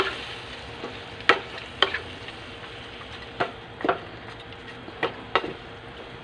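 Bell pepper and red chili sauté for kaldereta, with a soft continuous sizzle punctuated by about ten sharp clicks of a spatula against the pan at uneven intervals.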